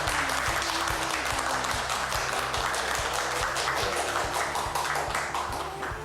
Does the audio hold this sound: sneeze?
no